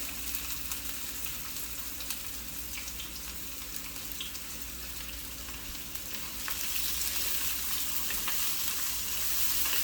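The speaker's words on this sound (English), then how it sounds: "we are going to add our onion and our green pepper to it right away" Chopped onion and green pepper sizzle in a hot pan for Szechuan fried rice, a dense, steady hiss and crackle that runs continuously up close and swells a little louder near the end.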